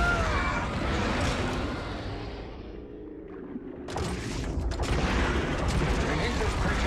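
Rapid blaster fire crackles and booms in LEGO Star Wars: The Skywalker Saga, a dense barrage of shots and impacts that dips briefly before surging back, mixed with game noise and voices.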